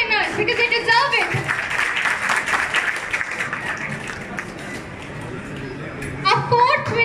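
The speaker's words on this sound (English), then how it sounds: "Please give a huge round of applause for all the winners because they deserve it." Crowd applause for lucky draw winners at a shopping mall event, broad reverberant clapping that swells and then fades over several seconds, with an announcer speaking over the start and again at the end.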